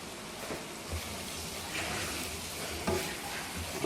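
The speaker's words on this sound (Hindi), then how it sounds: "अभी हमने इसमें ऐड कर दी है तोरी।" Chopped ridge gourd (tori) freshly added to cooked masala sizzles and frys in a pan while being stirred, a steady broadband hiss with occasional soft scraping accents, close and moderately quiet, with no voices.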